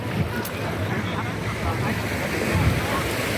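Waves washing onto wide Playacar beach at Playa del Carmen, Mexico, a constant broad surf roar mixed with wind buffeting the microphone, with faint voices in the background.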